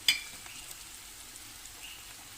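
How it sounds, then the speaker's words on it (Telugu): Dry fish frying in a pan hiss with a soft, steady sizzle after a sharp clink at the very start, continuing evenly with no voices. "మంచిగా ఫ్రై అయినాయండి"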